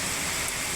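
Typhoon rain swirls in strong wind, a dense, loud, continuous hiss of downpour with no break or voices.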